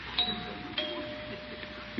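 A doorbell in an old-time radio comedy sounds two clear chimes, one after the other, ringing out over a faint background hiss.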